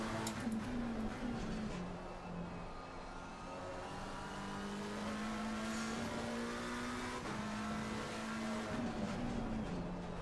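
Race car engine in Assetto Corsa Competizione at Donington, droning steadily through a chicane with the pitch dipping and climbing as the driver eases off and gets back on the throttle, loud and continuous throughout.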